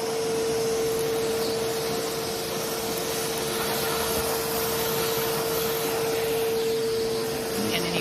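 A DeWalt wet/dry shop vacuum runs continuously with a loud, steady motor whine and airy suction rush, holding a constant pitched hum throughout with no speech.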